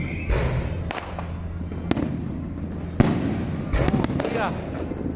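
Scattered firecracker explosions, a few sharp and loud with softer pops between, burst irregularly amid crowd noise at Penang's Dou Mu Gong temple for the Jade Emperor's birthday; people talk throughout.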